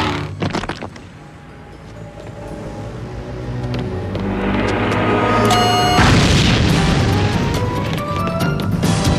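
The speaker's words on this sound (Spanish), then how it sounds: "Más bien una explosión desde el metro por obra de Maelstrom y Bilge." A cartoon explosion blasting up from the Paris metro: a sharp boom and crash up front, then a swelling roar of rumble and debris that builds into a second loud burst and carries on.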